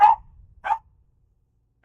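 A dog in the video game Dishonored gives two short, clipped barks a moment apart, then a faint third bark after a stretch of near silence.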